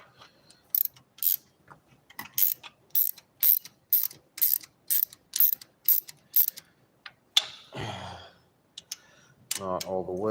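Repeated ratchet clicks from a hand ratchet tightening loose valve adjustment fasteners on an engine, about a dozen short even bursts close up, followed by rougher metallic handling sounds.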